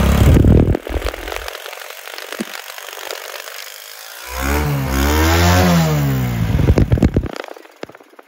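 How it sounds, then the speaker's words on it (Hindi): A petrol motorcycle engine, such as a Honda CD70, CG125 or Suzuki, idles with a sputtering chug while being tuned, then revs up in a rising and falling surge before dropping back to a rough idle. "धीरे धीरे इसकी रेस लगा के आपने चेक कर लेनी है"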